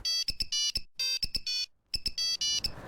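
A telephone ringtone chirps in short, repeated bursts of bright electronic tones, with two brief gaps between groups, clear and close, and no talking.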